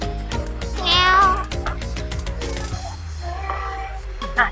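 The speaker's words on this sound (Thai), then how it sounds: "แมว" A cat in a cat cafe gives a clear rising meow near the start, with soft tapping and light room sounds around it and faint indoor activity afterward.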